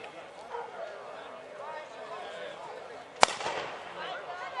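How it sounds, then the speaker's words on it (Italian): A single sharp starting pistol crack rings out at the start of an outdoor cross-country race, loud and sudden against a crowd murmur, while a commentator talks over the scene. "Ed ecco lo sparo, partita la gara"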